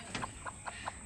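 A desi hen clucks while chicks hatch from eggs, giving about six short, evenly spaced clucks over a second, close and clear against a quiet background.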